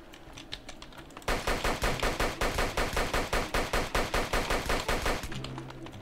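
Automatic gunfire in a video game set in the South Bronx: a few scattered shots, then a sustained rapid burst of evenly spaced loud reports lasting several seconds, fading to quieter shots at the end.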